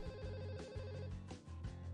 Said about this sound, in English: why am I getting phone calls from you